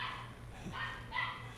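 Chihuahua barking indoors, a couple of short, sharp yaps, fairly faint and a little distant over a low steady hum.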